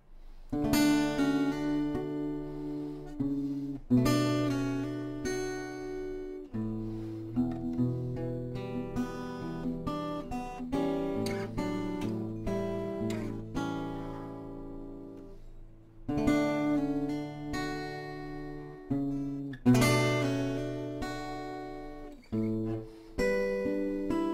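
Strummed acoustic guitar chords from the intro of a song, ringing out in sustained groups with pauses between, the notes wavering slightly with vibrato; no voices.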